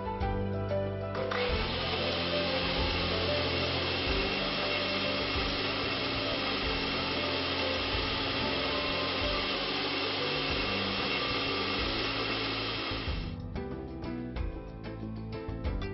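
A blender whirs loud and steady for about twelve seconds, blending banana, milk and sugar into a smoothie, then cuts off as the motor winds down, with no talking.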